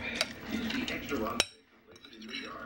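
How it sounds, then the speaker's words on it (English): A spoon stirs an oat fruit crunch mixture in a bowl, with scraping clinks and one sharp knock of utensil against the dish, near and moderate, while a person talks over it. "Stir it up, stir it up, stir it up."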